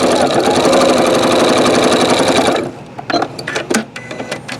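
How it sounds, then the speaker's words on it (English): A Janome sewing machine edge-stitches along the edge of a collar, giving a loud, steady whirring buzz for a few seconds before it stops abruptly, followed by a few faint clicks and handling sounds. "what I like to do is when we're doing collars and cuffs, we're going to sew right on the edge there"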